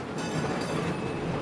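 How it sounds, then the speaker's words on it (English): A tram rolls along its rails in Red Dead Redemption 2, a continuous loud rumble with rattling wheel noise and faint metallic clicks, no talk. "Oh, gonna jump on the old tram?"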